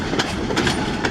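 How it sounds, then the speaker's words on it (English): A long freight train rolls past close by, a loud continuous rumble with rhythmic clacking of wheels over rail joints. "Nice long train heading south."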